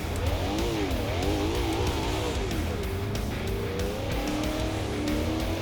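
A Hennessey Venom F5 in the racing game Assetto Corsa accelerates hard, its engine note climbing and dropping through gear changes in a steady, loud roar without a break.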